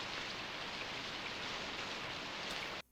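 Steady heavy rain from an original Dragon Ball Z episode, a dense unbroken hiss that fills the clip alone at an even level before cutting off abruptly near the end.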